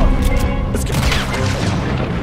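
Gunfire booms in Red Dead Redemption 2, a loud, close blast with a rumbling tail and a few trailing cracks, packed into a couple of seconds of game action.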